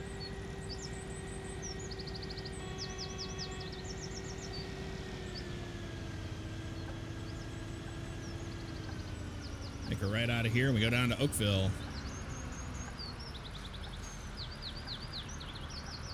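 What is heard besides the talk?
bird sounds in Bus Simulator video game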